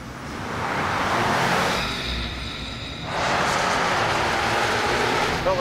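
A tuned Ford F150 EcoBoost pickup launching on a drag strip, a loud broad roar that dips briefly as it shifts, then surges again, heard from nearby.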